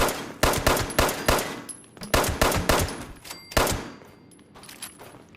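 Rapid bursts of automatic gunfire in the Fallout 76 game, loud and sharp, firing in quick volleys separated by brief pauses, then trailing off near the end.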